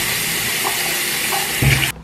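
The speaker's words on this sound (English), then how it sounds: "Okay, so let me wet my face first" Cold tap water running into a bathroom sink while someone wets their face, a steady close rush with a brief louder splash near the end before it cuts off.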